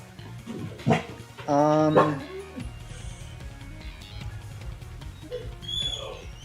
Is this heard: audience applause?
no